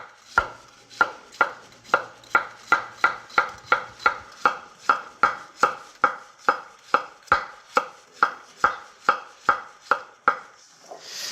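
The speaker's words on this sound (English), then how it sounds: "You know, just cutting them nice, even size." A knife chops zucchini into even pieces on a cutting board, about twenty crisp, evenly spaced knocks in a steady rhythm, close and clear against a quiet kitchen background.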